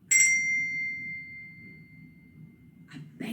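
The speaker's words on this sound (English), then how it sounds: "These are really clever bells because I don't need to shake them, which you would normally do with bells" A push-button metal dome bell struck once, giving a bright ding whose ringing tone lingers and slowly fades for about three seconds before a second strike begins.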